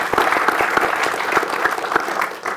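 Audience applause at a construction software global launch event, a dense, steady wash of many hands clapping close by that holds strong for a few seconds and dips slightly near the end.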